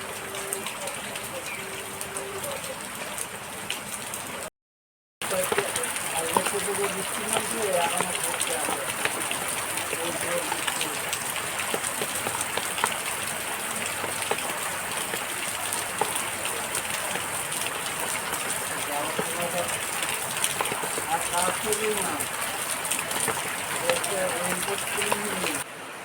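Continuous rain falls in a dense, steady hiss that runs almost unbroken, apart from one brief dropout, with a voice speaking faintly beneath it.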